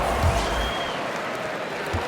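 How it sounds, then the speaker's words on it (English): Arena applause at a Milwaukee Bucks versus Chicago Bulls basketball game, greeting the young Bucks dancers: a sustained, even roar of clapping and crowd noise with little speech on top. "Give them a round of applause."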